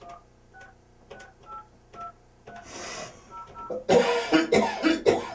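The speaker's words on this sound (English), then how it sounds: "Now you can dial it. So dial 1 first." Telephone keypad tones, several short evenly spaced beeps up close, followed by a cough and throat clearing.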